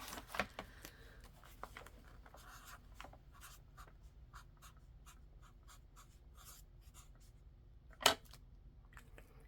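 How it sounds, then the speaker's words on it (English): A pen scratches across the page of a paper budget journal in short, quiet strokes and taps, close and faint, with one sharper tap near the end and no talk. "We're going to write saving on here."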